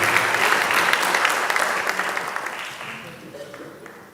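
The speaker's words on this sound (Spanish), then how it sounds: "Den un aplauso a Dios, por favor." Church congregation applauding together, a dense steady clapping that fades gradually toward the end with no talk over it.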